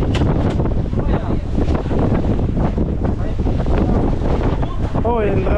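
Strong wind buffets the microphone in a constant loud roar by the sea with large waves, rushing water and faint voices mixed underneath.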